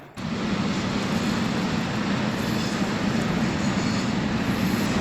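A long freight train rolls through a station in Bonn, Germany, a loud continuous rumble and wheel roar that holds steady from start to finish.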